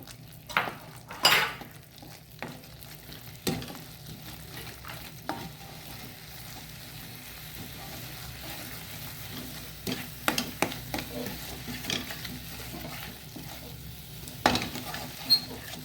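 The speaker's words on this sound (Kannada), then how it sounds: "ಇದನ್ನು ಚೆನ್ನಾಗಿ ತಿರುಗಿಸ್ಕೊಳ್ಳೋಣ" Finger millet mudde being worked with a ladle in a pan over a high flame, giving intermittent scraping and stirring knocks with soft sizzling underneath, fairly quiet and without talk.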